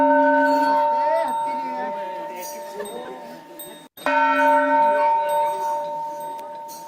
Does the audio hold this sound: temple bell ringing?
yes